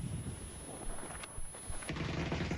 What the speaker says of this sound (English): Disney pushing forward with an Uzi. A little bit better for clearing buildings sometimes. With its fast fire rate, gonna go for the shots